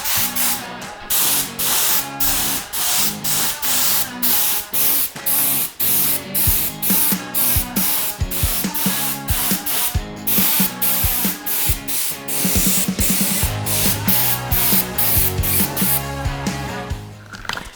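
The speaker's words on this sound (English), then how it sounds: "Just spray the color until the spray gun is empty" Steady hiss of a paint spray gun coating a vintage Cinelli steel bike frame, sputtering in short repeated bursts with brief gaps, loud and close throughout.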